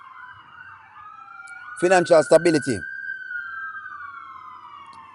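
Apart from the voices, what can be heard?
sirens of emergency vehicles in Los Angeles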